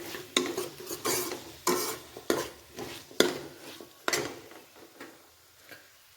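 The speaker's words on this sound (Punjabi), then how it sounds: "ਆਲੂ ਐਡ ਕਰਨ ਤੋਂ ਬਾਅਦ ਚੰਗੀ ਤਰ੍ਹਾਂ ਮਿਕਸ ਕਰਾਂਗੇ" Potatoes are stirred into a pan with a spoon, giving a series of distinct scraping strokes roughly every second over a faint sizzle, close by.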